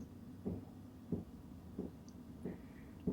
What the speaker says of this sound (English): that's the sound of the pump that I'm talking about